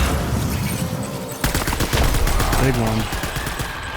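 Rapid bursts of gunfire crackle in Death Stranding, dense and loud, with a player's voice talking over the shooting.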